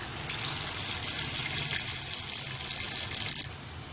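Water pours steadily from a tap into a cooking pot while bottle gourd curry is made, a close, continuous gushing splash that stops abruptly near the end.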